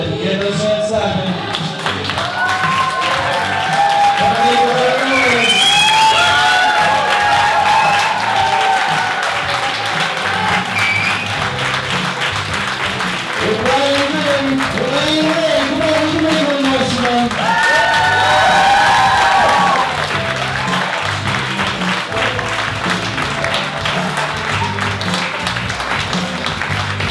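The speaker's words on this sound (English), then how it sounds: "I give those hands clapping, give those hands clapping." Wedding guests at a reception clap and cheer for the best man and maid of honor, giving sustained applause with shouts and whoops across the whole stretch, while amplified voices carry on over the crowd.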